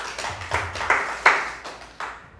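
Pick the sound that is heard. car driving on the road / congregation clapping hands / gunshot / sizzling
congregation clapping hands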